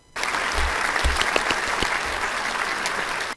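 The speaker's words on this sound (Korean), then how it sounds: "박수!" A short burst of dense applause starts abruptly and stops cleanly after about three seconds, with a few low thumps underneath.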